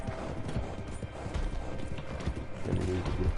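Horse hooves in the video game Red Dead, a brisk clip-clop gallop rhythm close by and continuous, with a faint voice talking underneath.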